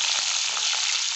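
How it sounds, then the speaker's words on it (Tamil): Steady, dense sizzling of onions frying in a hot pan, a continuous crackling hiss with no voices. "அடுத்த வெங்காயம் போட்டு நல்லா வதக்கணும்."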